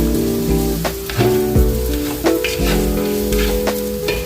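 Vegetables cooking in a pot sizzle steadily and close by, with bursts of bubbling and crackling. A low hum and several faint knocks of a spoon against the pot run underneath, and no one speaks.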